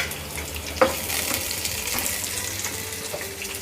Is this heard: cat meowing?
no